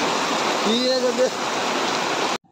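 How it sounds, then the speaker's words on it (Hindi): Heavy rain pours down in a dense, continuous hiss close by, with a voice briefly speaking over it before the sound cuts off abruptly. "केते जोर से वर्षा आसला खाली देखो पूरा जोर से वर्षा आसला"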